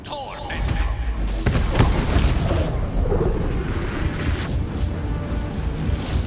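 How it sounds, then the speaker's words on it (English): A level 6 magic missile spell in Baldur's Gate 3 sets off a dense, loud wash of booming impacts and crackling bursts, sustained and layered throughout with no quiet gaps. "And now, Gale, go ahead and fire your level 6 magic missile"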